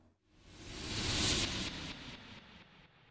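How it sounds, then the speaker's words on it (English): A noisy synth riser leading from an intro into a main track swells up over about a second, then its delay echoes repeat and fade in steady pulses with a reverberant tail. "a very simple riser to go from the intro into the main track"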